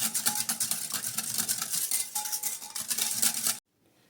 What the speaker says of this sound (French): Je vais touiller jusqu'à ce qu'elle fonde, jusqu'à ce que la levure fonde